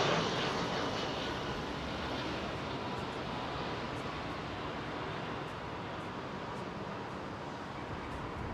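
An Emirates A380 airliner on approach to Heathrow, a steady broad roar of jet engines that stays loud and sustained throughout with a slight easing toward the end, no talk over it.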